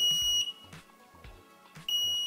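A home smoke detector held over smoke shrills with piercing high beeps, a loud burst at the start and another near the end, with clattering handling noise between them indoors.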